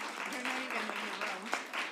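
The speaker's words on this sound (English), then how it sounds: "give them a round of applause" Audience at a sexual assault survivor forum applauding staff, moderately quiet clapping with a voice speaking over it.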